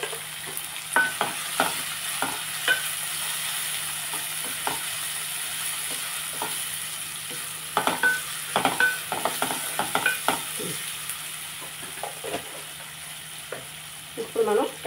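Onions and tomatoes frying in a pan for buttermilk rasam, a steady close sizzle with intermittent stirring clinks and scrapes throughout.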